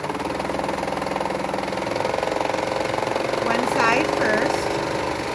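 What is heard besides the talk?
serger running, finishing fabric edges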